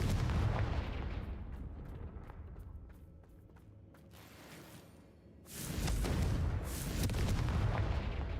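Confringo fire spell in Hogwarts Legacy: a whooshing cast fading away, then a loud, broad explosive boom rolling on for several seconds.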